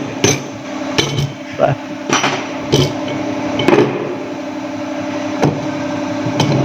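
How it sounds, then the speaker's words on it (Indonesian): A plastic hammer strikes a ring gear to knock it off a vehicle differential case, about eight loud, sharp knocks at uneven intervals, close by with some workshop background. "menggunakan palu plastik."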